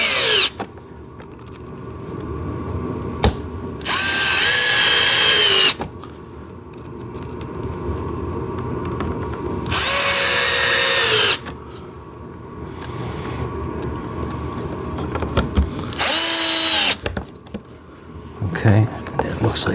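Three loud bursts of a cordless power drill drive small screws into a JCB ride-on toy tractor excavator, each whirring for one to two seconds and winding down, separated by quieter handling sounds.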